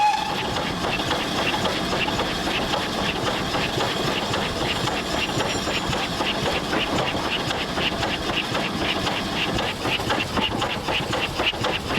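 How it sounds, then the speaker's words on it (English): Heritage steam locomotive on the West Somerset Railway working hard, heard from the footplate: a loud, constant mechanical roar with rapid rhythmic beats and rail clatter, steady throughout. "This engine's probably working as hard now as it did on the main line."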